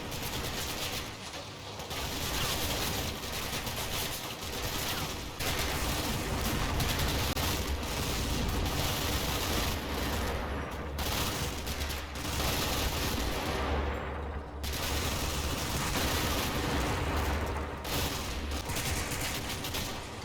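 Dense gunfire from soldiers firing out of factory windows at an anti-tank gun in the wargame Combat Mission, a continuous loud barrage of overlapping shots and bursts with no break.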